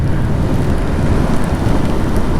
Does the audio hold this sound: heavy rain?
yes